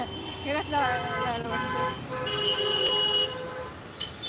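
Several vehicle horns honk in overlapping bursts amid busy Mumbai street traffic, loud and close, with tonal blasts of different pitches sounding one after another.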